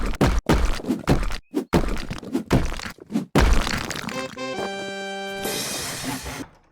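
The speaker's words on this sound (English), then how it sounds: "let's hide the evidence and let's blow up some walls" Walls are smashed apart in the video game House Flipper, with a rapid series of loud cracks, thuds and crunching breaks, followed by bright tonal game chimes at the end.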